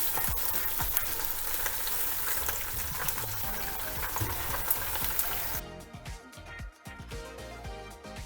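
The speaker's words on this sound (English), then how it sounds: "And now it's time to cook the peppers and onions." Sliced peppers and onions sizzle steadily in a hot pan for Italian sausage and peppers, a dense continuous frying hiss that drops to a softer, uneven crackle near the end.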